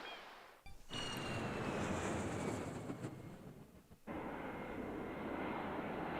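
A propeller airplane flying in the video game Super Mario Sunshine: a dense, loud roar of engine noise that drops out briefly, swells back, dips again around the fourth second, then resumes steadily.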